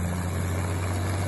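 A restored Rolls Royce Merlin aircraft engine runs at Yelverton, Devon, giving off a loud, steady, deep droning hum with a rough broadband roar, close and unbroken through the short stretch.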